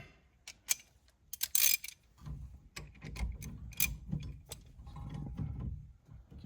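A 1/2 inch drive ratchet tightens a puller on a classic GM Pontiac turn signal switch, making irregular close clicks and ratcheting bursts with short pauses between strokes.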